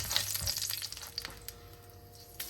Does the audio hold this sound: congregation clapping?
no